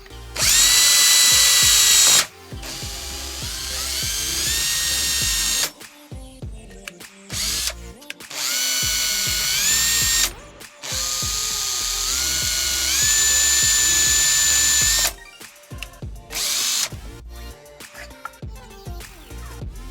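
A power drill bores air holes in a 3D-printed cosplay mask in several loud, whining bursts of a few seconds each, with short pauses and small handling clatter in between.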